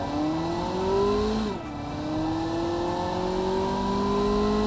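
A rear-engined cruiser in the Automation car game accelerates hard, its engine note climbing steadily, dipping briefly at a gear change, then rising again, loud and close with no talking.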